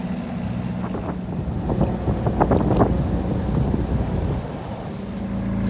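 A Rival 41 sailboat motoring under engine through the Blasket Sound: a steady low engine drone under rushing wind buffeting the microphone, with water sloshing against the hull.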